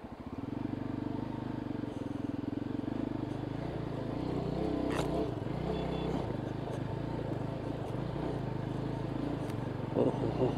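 A motorcycle crossing round stones underwater in a stream between Kishtwar and Kashmir, its engine a steady low drone with uneven jolts and splashy bursts from the rocky bed, while people talk nearby.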